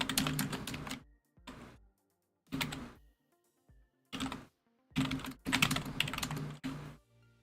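Fast typing on a computer keyboard comes in several close bursts of rapid key clacks, with short silent pauses between them.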